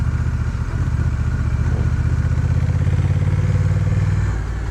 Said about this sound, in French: On a une sonorité quand même qui est bien grave et qui est très agréable pour un échappement d'origine